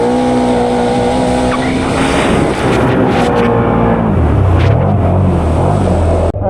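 A Can-Am Renegade XMR ATV engine revs hard in low range while skimming across water, a loud sustained rising drone that deepens near the end, with splashing and no speech.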